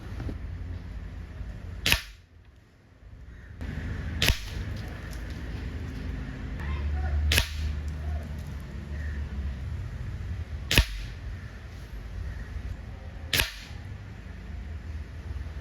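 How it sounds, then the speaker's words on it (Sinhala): A Dyna Panther 31 air rifle fires RWS Superfield Ultra Heavy pellets at 25 yards, five sharp close cracks spaced a few seconds apart over a quiet outdoor background hum. "දැන් අපි ෂූට් කරේ ඇත්තටම Dyna Panther 31 air rifle එකෙන්"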